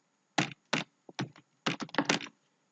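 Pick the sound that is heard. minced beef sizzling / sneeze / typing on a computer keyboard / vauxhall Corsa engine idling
typing on a computer keyboard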